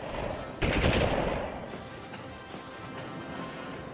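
Gunfire from machine gunners in the Army Men 3D video game, a dense loud burst around the first second that trails off into quieter rumble and scattered shots.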